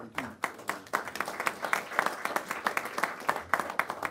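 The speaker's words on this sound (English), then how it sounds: "So let's give a round of applause to Mayor Adams." Audience applause for the mayor at a governor's cannabis budget announcement, steady rhythmic clapping from a crowd that swells after a brief pause and continues throughout, fairly close and full.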